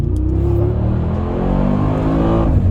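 A Mercedes G700 by Brabus engine revs loud and close, a steady deep rumble that holds and rises slightly in pitch, with no voices over it.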